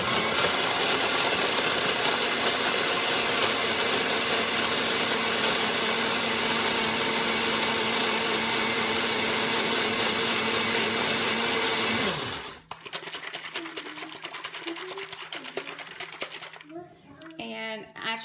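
A NutriBullet blender whirs loudly and steadily as it blends a Shakeology shake with ice, then spins down abruptly, leaving quieter handling sounds and a voice afterward.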